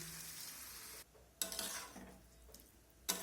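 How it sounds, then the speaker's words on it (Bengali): Cauliflower, potato and soybean curry being stirred in a pan just after hot water is added, with scraping strokes and spoon knocks over a steady simmering hiss, two sharp clatters standing out. "এখন আমি জল দিয়ে ভালো করে সব কিছু নাড়াচাড়া করে এখন ঢেকে দেবো।"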